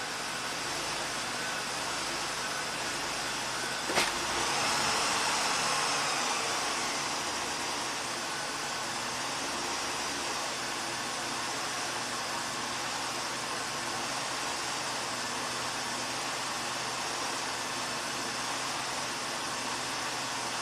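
A 1985 Oldsmobile engine idles in park with a steady, continuous broadband hum, joined by a single sharp click early on, and no talking.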